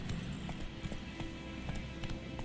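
Geralt's horse Roach gallops in The Witcher 3, a quick rhythmic clip-clop of hooves beating steadily under a low background hum.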